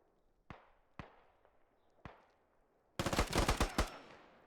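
Gunfire in a video game infantry fight: three single sharp shots spaced about a second apart, followed by a loud rapid burst of automatic fire, all crisp and close with no talking.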